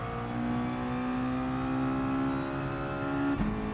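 Mazda touring car in a racing video game at Suzuka, engine revving steadily upward through a gear under full throttle, a close, continuous whining drone that briefly dips as the gear changes near the end.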